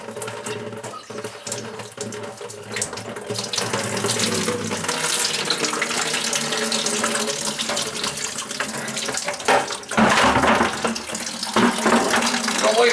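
Water runs steadily from an outside sill faucet being drained before replacement, a continuous rushing splash that grows slightly louder after a few seconds and stays unbroken to the end.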